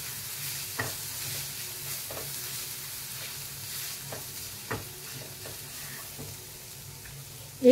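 Chili powder and salt are stirred in a pan over a low gas flame, with a soft sizzle beneath scattered scraping taps of the spoon and a sharper knock at the end, no voices.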